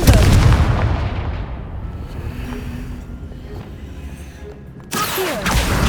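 A Confringo spell in Hogwarts Legacy goes off with a loud, booming blast that rumbles and fades over several seconds, then a second sharp burst hits near the end.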